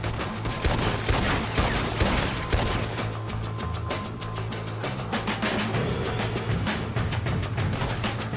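Several men fire at once in a sustained fusillade, dense overlapping shots crackling nonstop for over eight seconds, with a low musical drone beneath.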